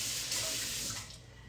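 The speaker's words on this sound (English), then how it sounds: "so let me rinse this." Kitchen tap running as something is rinsed while sweet potato and ginger dessert soup is prepared, a brief close steady splash of water that tapers off at the end.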